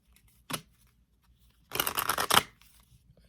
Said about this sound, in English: I'm slaughtering the shuffling.